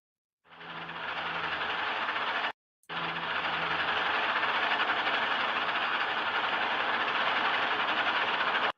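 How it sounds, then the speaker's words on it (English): The 1948 IBM Selective Sequence Electronic Calculator (SSEC) runs with its punched paper tape readers, a loud, dense mechanical whir and clatter that starts up, cuts out for a moment, then resumes steadily to the end. "What you are hearing now is the actual sound of the machine in operation."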